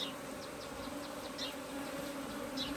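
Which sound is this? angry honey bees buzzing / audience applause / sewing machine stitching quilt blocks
angry honey bees buzzing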